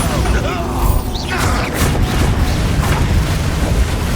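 Bombarda spell blast in Hogwarts Legacy, a loud dense rumbling boom with crackling debris and mechanical clatter, filling the whole moment amid busy combat noise.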